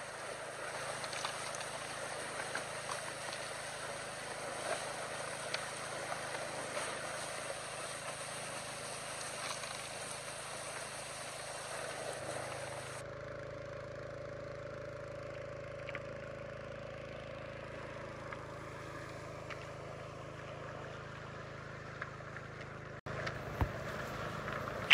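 An 8-horsepower Robin petrol engine drives a gold-prospecting sluice, a steady faint drone that continues throughout the clip and shifts tone partway through, with no voices.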